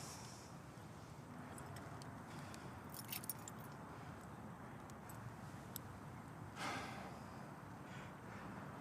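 A bunch of keys jangles faintly, with a few soft metallic rattles and clinks spread over a quiet background.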